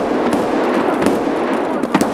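Gunshots in the video game Escape from Tarkov crack through a dense, continuous din, with a few sharper reports standing out near the end.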